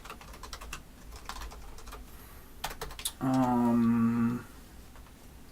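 Typing on a computer keyboard during game development, a run of quick, fairly loud keystrokes over about three seconds, then a short steady tonal hum that cuts in after them.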